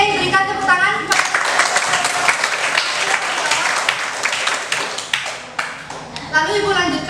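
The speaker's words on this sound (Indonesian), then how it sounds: "Oke, berikan tepuk tangan." Classroom audience applause during a microteaching lesson, a burst of close, dense hand clapping lasting several seconds, with voices talking just before and after it.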